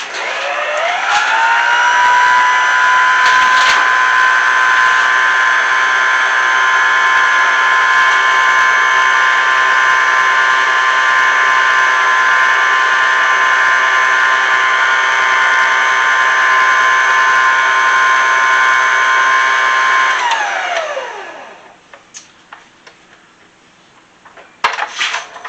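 An electric mixer whirs loud and steady for about twenty seconds, beating peanut butter pie filling with whipped topping, then spins down and stops, leaving a few faint clicks and knocks.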